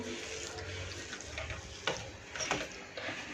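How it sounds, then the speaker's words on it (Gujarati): Doodhi kofta mixture of grated bottle gourd being stirred and mixed by hand in a bowl, with soft scraping and a few sharper clicks of the spoon against the side, close and fairly quiet. "હવે આને આપણે સારી રીતે મિક્સ કરી દઈશું."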